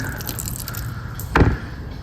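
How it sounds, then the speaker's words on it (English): Transmission oil drains from the pan of a BMW during a service and drips and trickles steadily. One louder splash comes near the end of a short burst. "Just let that drain out right there before I pull it all the way out."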